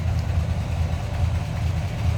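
The engine of a 1970 Chevrolet K10 pickup idles smoothly with a low, steady rumble, running close and even without any voices over it.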